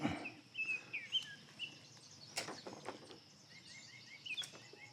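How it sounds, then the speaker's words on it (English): Scattered bird chirps and short whistled calls come from around the area, fairly faint, over a soft outdoor background hum. "These are natural birds that are chirping."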